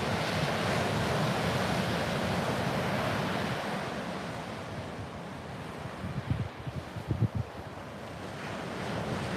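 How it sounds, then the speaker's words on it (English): Ocean surf breaking on a beach along the east coast of Florida, a steady roar of waves with wind rumbling across the microphone and a few louder crashes near the end. "surf dropped down a little bit today on the east coast of Florida"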